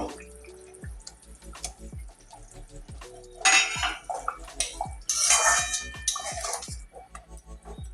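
Two pieces of catla fish drop into a simmering curry of tender ash gourd, making wet splashes and bubbling among clinks of pot and utensil in a home kitchen, close and moderately loud with no talking.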